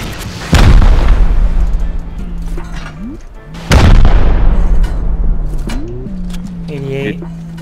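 Two heavy rocket blasts go off in the game Rust during a base raid, each a loud booming impact with a long rumbling tail, a few seconds apart; game sounds and brief tones follow.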